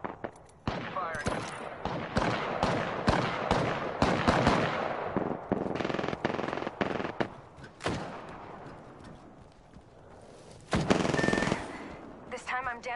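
Dense bursts of video-game gunfire from a PS4 shooter, rapid machine-gun strings and single shots crowding one another at close range, with a louder volley near the end and a voice talking over the shooting.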